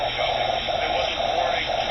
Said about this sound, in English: I'm hearing interference.